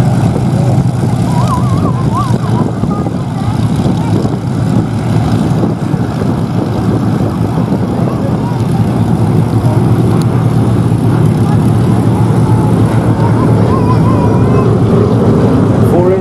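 The B-17 bomber Sally B flying at the Flying Legends airshow, a loud, steady, continuous drone of piston engines and propellers that fills the whole stretch without letting up.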